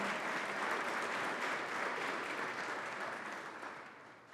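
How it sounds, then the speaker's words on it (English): Dense, sustained applause from a crowd at an honors event, a continuous wash of clapping that holds steady and then tapers off slightly toward the end, with no speech heard. "Let's give them a round of applause."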